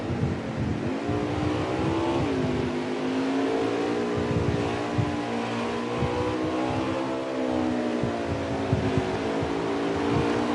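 NASCAR Xfinity race cars roar around the Charlotte Roval road course, engines droning and rising in pitch as they accelerate, a continuous loud pack sound with gear changes and no voices.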